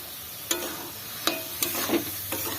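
A spatula stirs rice and lentils for bhuna khichuri in a pan, producing a few scraping, clattering strokes against the metal over a soft, steady sizzle, with no talking.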